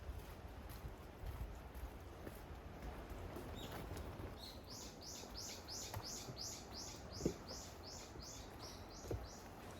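A bird sings a rapid series of repeated chirps on a rainy coastal deck trail, clear and fairly close over a soft steady wash of rain and distant waves, with no talk.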